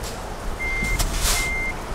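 A truck reversing in Euro Truck Simulator 2 on a Brazilian map: two clear electronic backup beeps over a low engine rumble, with a brief air-brake-like hiss between them.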